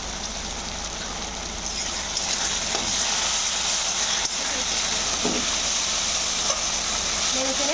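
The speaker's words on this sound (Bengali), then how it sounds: "মশলাটা ভেজে নেব।" Spice paste with chilli powder, salt and roasted cumin-coriander powder frying in oil in a pan for a boal fish paturi, a loud continuous close sizzle with occasional stirring scrapes throughout.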